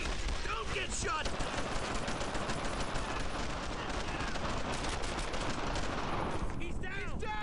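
Dense, continuous gunfire and machine-gun bursts from the World War II shooter game Brothers in Arms: Earned in Blood, loud and sustained throughout, with shouted voices mixed into the battle noise.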